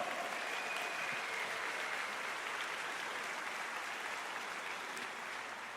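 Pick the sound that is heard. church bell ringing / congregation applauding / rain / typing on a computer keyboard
congregation applauding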